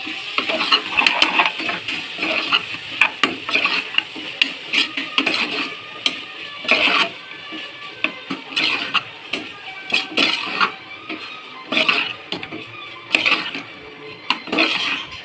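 A spoon clinks and scrapes against a metal cooker while meal maker soya chunks are stirred into tomato rice, with irregular close metallic taps and rattles and short pauses between strokes.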